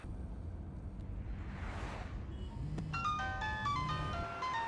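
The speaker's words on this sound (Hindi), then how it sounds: "देखो, उसका फोन बज रहा है।" A mobile phone rings in a moving car, a melodic electronic ringtone of repeated tones starting midway over road rumble and a passing whoosh.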